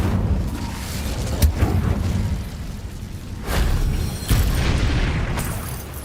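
An Incendio fire spell cast in the Hogwarts Legacy video game, with booming whooshes and bursts rising out of a steady rumbling game ambience, loud and close.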